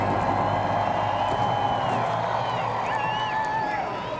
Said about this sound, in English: You hear the roar of the crowd.